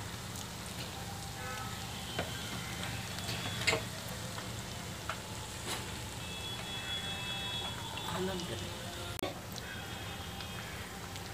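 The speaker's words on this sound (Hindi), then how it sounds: "सारे मेंदू वड़े हम तलेंगे" Medu vada deep-frying in hot oil, a steady soft sizzle and bubbling with faint scattered clicks and pops, quiet and close, no talking.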